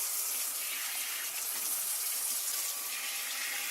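Warm tap water runs steadily while a pet dog is bathed, a loud, continuous splashing hiss with no pauses and no talk.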